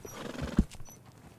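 A black horse in Red Dead Redemption 2 clops its hooves and lets out a short whinny, one sharp hoof strike standing out midway through a brief, fairly quiet burst.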